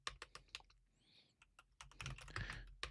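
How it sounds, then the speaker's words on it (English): Close, fast typing on a computer keyboard, with rapid irregular clicks in bursts, a brief pause, then a busier stretch of keystrokes over a faint room background, no voices. "I hate typing because I'm not a good typer"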